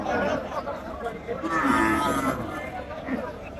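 Cows lowing amid a busy crowd at the Badurhat cattle market before Eid, with chatter and background voices throughout.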